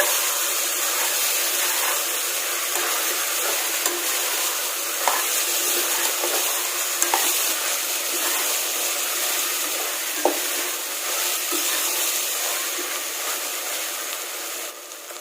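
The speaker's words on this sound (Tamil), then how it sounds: "புதினா கொத்தமல்லி ஆட் பண்ணிட்டு நல்லா மிக்ஸ் பண்ணிக்கோங்க" Vegetables with mint and coriander being stirred in a pot produce a loud, constant hissing sizzle, broken by occasional soft clicks and scrapes of the spoon, with no talking.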